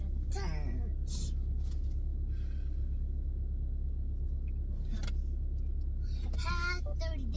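A car carrying three boys drives along a road, its engine a constant low rumble throughout, with children's voices and talking breaking in over the steady road noise.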